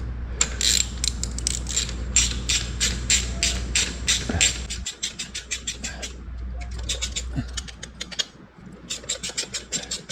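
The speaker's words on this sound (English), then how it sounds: "let me get a ratchet and we'll get those down" A half-inch ratchet clicks in rapid bursts while bolts are worked loose on a 1971 Corvette under restoration, with fast pawl ticks, short pauses and a low background hum dropping away midway.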